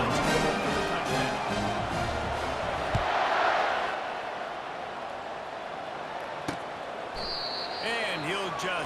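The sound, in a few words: stadium crowd cheering in video game College Football 25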